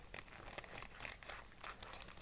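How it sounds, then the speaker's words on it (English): Scissors cutting open plastic packaging bags for model parts, heard as quiet, close crinkling and snipping rustles in a continuous run, with no talk. "Scissors."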